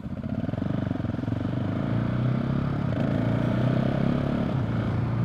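A KTM 690 SMC single-cylinder motorcycle pulls hard from close range, its engine note loud and steady. Quick clutchless quickshifter upshifts break the drone with brief dips as the revs climb again.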